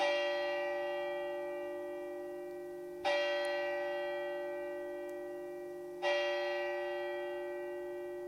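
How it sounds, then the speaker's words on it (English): Heavy church bell tolling the hours: three deep, resonant strikes about three seconds apart, each ringing on and slowly fading, distinct and alone. "the heavy bell went on from 6 to 7, and from 7 to 8, and regularly up to 12."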